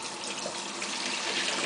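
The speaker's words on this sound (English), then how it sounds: "we're going to start running some cold water" Cold tap water runs steadily over hot hard-boiled eggs tipped into a strainer, a continuous broadband splashing hiss that stays even and close for the whole stretch with no voices.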